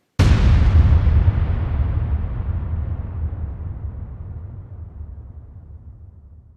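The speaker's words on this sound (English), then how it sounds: "The Big Bang was a sudden cosmic explosion that exploded all kinds of energy and matter in all directions" Big Bang cosmic explosion sound effect: a single massive boom that hits suddenly and loud, then rumbles and decays slowly over several seconds with a deep, lingering low-end roar.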